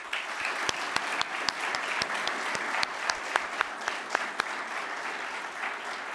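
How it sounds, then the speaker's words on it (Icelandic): Steady applause from an audience at a school graduation ceremony, honouring departing staff; a continuous wash of clapping with sharper individual claps standing out, moderately distant and sustained throughout without speech. "gefið þeim gott klapp"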